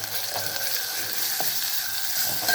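Ginger, garlic and turmeric frying in a pan while being stirred, with a dense continuous sizzle and light scraping of the spoon, close and fairly loud with no talk.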